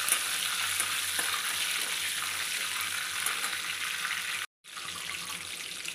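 Curry leaves crackle and sizzle in hot oil for kande pohe, a steady bright hiss with light stirring scrapes underneath, close and continuous, broken by one brief dropout near the end.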